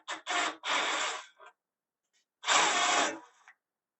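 Power drill bursts while removing the headlight bolts on a 1999–2000 Honda Civic: three quick close whirring runs, a pause, then one longer burst, with no talk.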